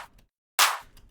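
One dry, bright clap sample snaps out alone in near silence, a short burst of crisp noise that fades fast, with faint soft residue around it.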